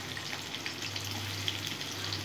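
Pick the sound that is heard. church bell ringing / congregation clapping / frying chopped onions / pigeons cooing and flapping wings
frying chopped onions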